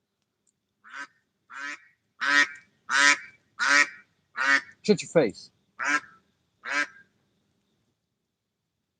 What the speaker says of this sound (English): Ducks yelling at me this morning.